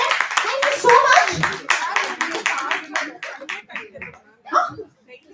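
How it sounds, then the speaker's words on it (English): A small group applauds at a workplace safety event, a burst of close hand claps over the first few seconds that thins out and fades, mixed with voices and light chuckling. "A round of applause to both of them."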